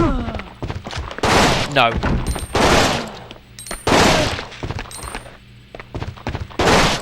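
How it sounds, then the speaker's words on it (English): A rifle in Resident Evil Outbreak fires in three-round bursts: loud, punchy volleys repeat every second or so, with a voice talking between and over the shots. "You know, it fires in 3 burst shots."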